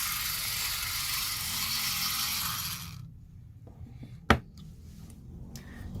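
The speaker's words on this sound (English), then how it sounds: "if you want to turn it on, you just flip the switch down here, and you'll see that it spins around like this" A small motorized acupoint presser whirs with a steady buzzing hiss for about three seconds, then stops; a single sharp mechanical click follows amid faint handling noises.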